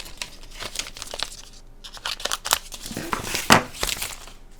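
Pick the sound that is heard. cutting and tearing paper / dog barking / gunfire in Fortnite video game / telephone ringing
cutting and tearing paper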